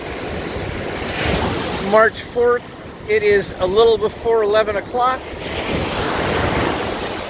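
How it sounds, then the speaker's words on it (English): Steady wind and ocean surf wash across an offshore-breeze beach on a cool morning, a broad continuous roar with wind buffeting the microphone while someone talks briefly in the middle. "the wind's picking up, making it feel a little cooler"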